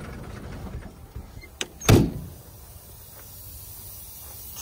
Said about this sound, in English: Little air leak in there too.